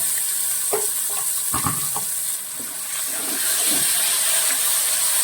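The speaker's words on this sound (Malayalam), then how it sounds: "നമുക്ക് ചേർത്ത് നന്നായിട്ട് ഒന്ന് ഇളക്കി കൊടുക്കുക" Chopped tomatoes and onions stirred in a hot pan for tomato rice: a continuous frying hiss with scraping spatula strokes and a few sharper knocks early on, close and fairly loud, with no talking.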